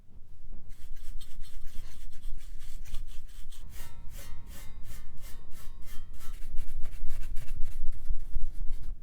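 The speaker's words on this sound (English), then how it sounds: "I'm just going to give it a quick de-dusting" Repeated scratchy brushing strokes dusting off a power supply fan in an early 2000s Sony Vaio computer, speeding into a quick rhythmic scrubbing, close and fairly loud, with no voices.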